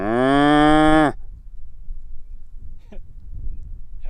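A single long, loud cow moo, rich and harmonic, rings out close by in an open Kansas field, then breaks off into quiet outdoor background with faint rustling.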